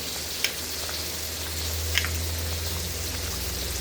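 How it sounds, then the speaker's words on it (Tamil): Fish frying in hot oil in a pan, a steady even sizzle with a couple of faint pops and crackles, moderately quiet, with no voices. "வறுக்கிறதுக்கு எண்ணெய் ஊற்றியாச்சு, மீனை வச்சுக்கலாம்."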